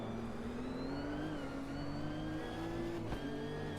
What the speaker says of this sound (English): when you hear that gurgle from the engine, you can just hear it there on the overrun